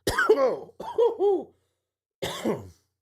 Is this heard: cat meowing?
no